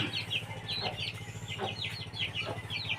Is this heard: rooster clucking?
yes